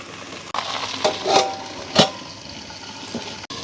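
Drumsticks sautéing in a pan on a village kitchen stove, giving a steady close sizzle with a few louder stirring scrapes and swells, and no talking.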